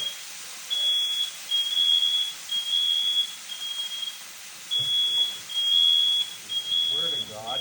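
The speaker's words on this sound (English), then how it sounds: "I can't even cook a meal without the fire alarm going off" A smoke alarm in a home kitchen goes off during cooking, sounding a series of short, shrill beeps in a steady repeating pattern over faint room noise.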